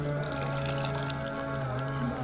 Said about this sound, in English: pour it into our cup